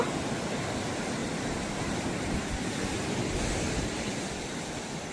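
Ocean surf at El Matador Beach in Malibu, California, makes a steady, broad roaring wash of waves and wind with no talk.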